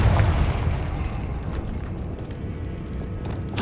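A Confringo blasting spell explosion in Hogwarts Legacy, a loud low boom at the start that rumbles away, then a sharp burst at the very end.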